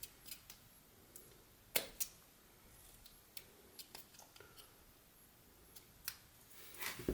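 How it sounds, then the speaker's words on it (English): A pocket knife whittles wood for a Santa ornament, making faint, sparse scraping cuts with a few sharper clicks spread over a quiet background. "put a little cut in here and then just go remove that wood"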